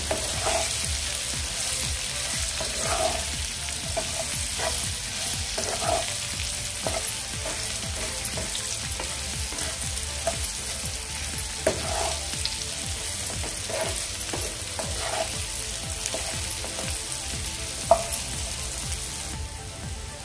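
Bitter gourd bhaji stirred in a pan over a low gas flame: a steady close sizzle with recurring spatula scrapes and taps at irregular intervals, and no voices.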